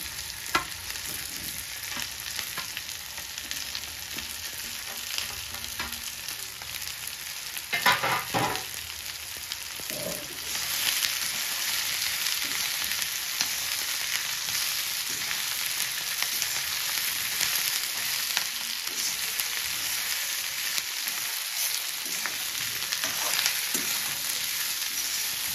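Boneless fish pieces and spring onion frying with half-cooked onion for chilli fish, a steady hiss and sizzle that swells louder midway, with a few stirring knocks and scrapes near the start.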